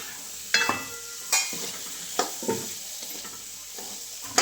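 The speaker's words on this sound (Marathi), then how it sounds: "आता व्यवस्थित हलवून घेते एकदा." Potatoes being stirred into a sizzling pan of tempering: several distinct scraping, clattering spoon strokes at irregular intervals over a steady background sizzle, close and fairly loud.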